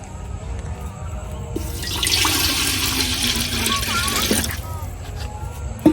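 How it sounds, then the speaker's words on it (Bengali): Water pours into a large cooking pot set up for steaming a cake over a clay stove, a steady splashing rush lasting a couple of seconds before stopping. "এখন পাতিলে দিয়ে দেন পানি।"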